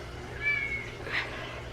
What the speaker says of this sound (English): That you hear is our cat Reggie in the background